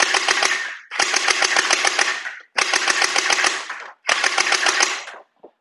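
A SHELL THROW MP5K gel ball blaster with sliding stock fires four loud, close bursts of rapid full-auto shots, each lasting about a second, separated by short pauses.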